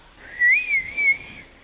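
A person whistles a short, wavering high tone, imitating the airflow whistle that a vacuum fault causes in a BMW N55 engine. The whistle is clear and close, with two brief rising and falling phrases.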